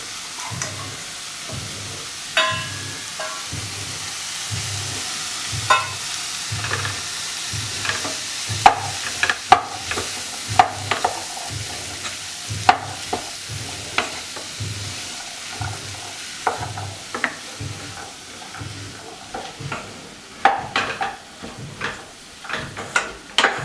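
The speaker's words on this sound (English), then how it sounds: "Let them all saute a little before we start dipping in the other vegetables" Squash and zucchini sauteing in a pan for risotto: a soft continuous sizzle broken by repeated scraping stirs and knocks of a utensil, fairly close and moderately quiet, with no voices.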